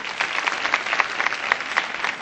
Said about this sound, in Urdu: اسوا کے لیے بھی تو تالیاں بجا دیں آپ لوگ